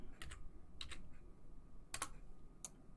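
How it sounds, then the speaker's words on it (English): Short bursts of keystrokes on a computer keyboard, a few quick clicks in clusters separated by pauses, faint and close, typing a command at a command line with no talking. "just open a command line and type ip"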